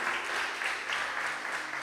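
Church congregation applauding during a sermon, a steady wash of many hands clapping at once, even and sustained from start to finish with no voices rising above it.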